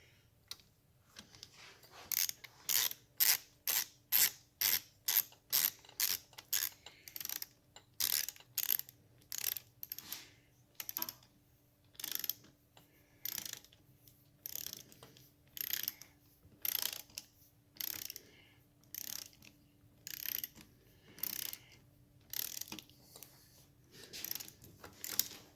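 A torque wrench ratchets down a bolt on a 1968 Triumph Bonneville engine, giving quick close clicking bursts that start in a rapid run and settle into steady repeated pulls, loud and alone.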